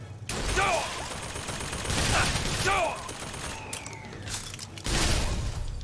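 Gunfire in the video game BioShock Infinite: Burial at Sea, with repeated sharp shots and bursts, metallic clanks and a ringing whine, all over a busy, noisy game mix.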